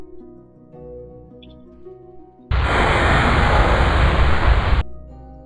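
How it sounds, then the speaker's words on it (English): Rocket engines firing in the Kerbal Space Program video game during a Mun landing approach: a sudden loud roaring hiss cuts in over quiet game music, holds steady for about two seconds, then stops abruptly. "Is that really the sound these engines make?"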